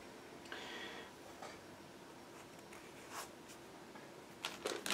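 Plastic model kit parts for a 1/16 scale British Grenadier figure are lifted out of their box, giving soft scattered rustles with a few brief crisp plastic clicks and taps near the end, no voices.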